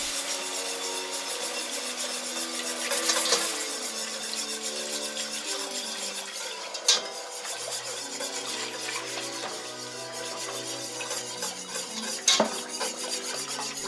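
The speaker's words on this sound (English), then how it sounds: "Add the broth and stir for 2 to 3 minutes." A spoon scrapes and stirs broth into a browned roux mixture in a pan for a seafood béchamel sauce, with continuous rasping strokes and a few sharp clinks against the pot.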